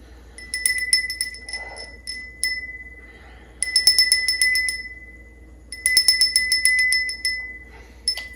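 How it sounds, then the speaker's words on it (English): A small metal bell is rung in a spiritual energy-cleansing ritual, producing bright, shimmering high tones in repeated clusters of rapid strikes with ringing decay between bursts, close and clear in a quiet room. "we're going to ring this bell, cleanse the energy"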